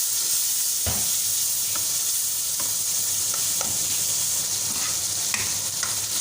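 Spices and tomato frying together in a pan for aloo bhujia, giving a steady, loud sizzle and hiss with periodic scraping strokes of a spoon as everything is mixed.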